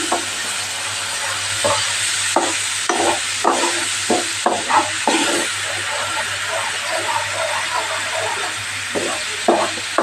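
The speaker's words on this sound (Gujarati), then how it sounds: "આને આપણે હલાવી દઈશું" Masala frying in a pan and being stirred while making Kutchi dabeli filling, with a steady sizzle and hiss under repeated scraping stirs and clinks of a spoon, close by.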